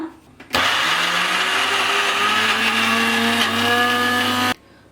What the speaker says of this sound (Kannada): ನೋಡಿ ಮಿಕ್ಸಿಯಲ್ಲಿ ಹಾಕಿ ರುಬ್ಕೊಂಡಿದ್ದೀವಿ